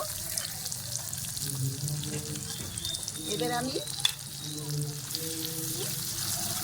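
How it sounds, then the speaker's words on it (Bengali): Steady sizzling of onions frying in a pan for stuffed pointed gourd, close and continuous, with a brief voice speaking partway through and a few stirring clinks. "মধ্যে আমি পেঁয়াজগুলো দিয়ে দিচ্ছি এই পেঁয়াজগুলো একটু ভাজা করে নেব"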